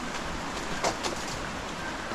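Water from a freshly dug natural spring beneath a tree near a hut flows in a soft, steady wash, close by and unbroken, with no voices.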